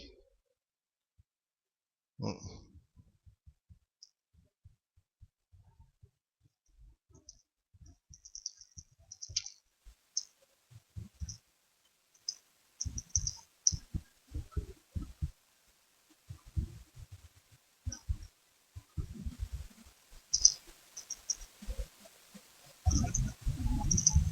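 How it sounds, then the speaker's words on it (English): Someone types on a computer keyboard inside a car, producing scattered soft key clicks that become denser and louder toward the end, with no talking. "Just typing this in"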